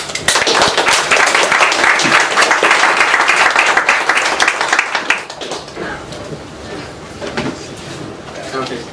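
An audience at a small London tech meetup claps loudly and continuously for about five seconds, then the applause drops away to scattered claps and room noise.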